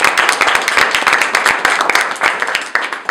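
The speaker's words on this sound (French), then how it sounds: "on peut déjà les applaudir" Close, lively audience clapping at an evening gathering, with sharp individual hand claps standing out in a fast, irregular patter that stays loud throughout, with no talking.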